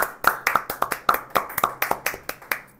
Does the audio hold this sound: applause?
yes